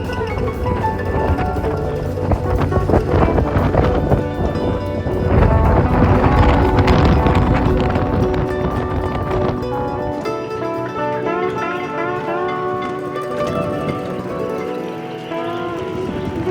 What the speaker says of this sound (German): Wenige Stunden nach dem Festmachen in der Marina von Nyborg ist der angekündigte Wind da.